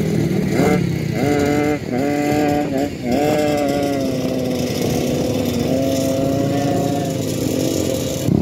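A motorboat engine drones loud and close on a river in Belinyu, Bangka, its pitch stepping up and down a few times before settling into a steady hum as it passes.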